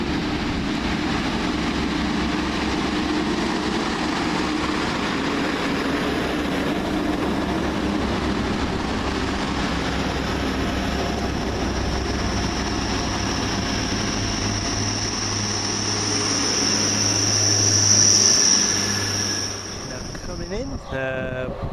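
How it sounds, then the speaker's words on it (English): A Hull Trains Class 180 diesel unit departs London King's Cross, its engines droning steadily at close range for over twenty seconds, swelling toward the end with a rising high whine before fading as it pulls away. "now departing the delayed 12:02 first Hull train service to Hull from London King's Cross"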